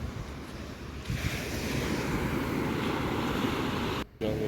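Sea waves breaking at Kappad beach near Calicut, Kerala, a continuous broad roar of surf with wind buffeting the microphone, steady and close throughout with a short dropout near the end.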